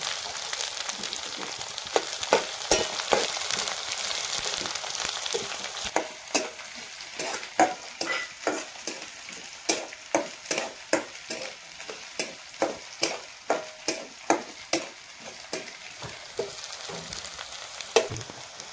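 Cumin and mustard seeds frying in hot oil for a dry radish dish, a steady close sizzle broken by repeated sharp stirring scrapes and pops in a regular rhythm, with no talk.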